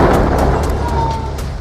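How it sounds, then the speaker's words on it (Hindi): A loud, deep explosion destroying a Merkava tank roars and rumbles, its heavy blast noise rolling on and slowly fading. "टैंक आता है और कुछ सेकंड बाद होता है बहुत बड़ा धमाका।"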